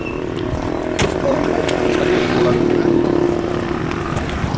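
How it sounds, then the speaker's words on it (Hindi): A convoy of vehicles rolls toward a JJP foundation day rally in Bhiwani, giving a steady, close engine drone and road rumble that swells slightly midway, with voices talking over the traffic. "आपको आगे तक हम गाड़ियों का काफिला दिखाते हैं"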